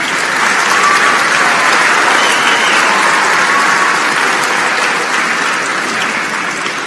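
Audience applause at the EAST Conference 2019 gala, a dense, steady wash of clapping from a large crowd that holds loud and even throughout before easing slightly at the end.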